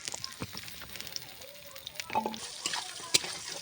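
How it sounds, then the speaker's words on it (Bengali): Onion pieces dropped into hot oil for a cauliflower and potato dish crackle with a soft, steady sizzle, broken by a few louder pops and clinks of stirring near the end; no one speaks. "তেলে পেঁয়াজগুলো দিয়ে দিচ্ছি"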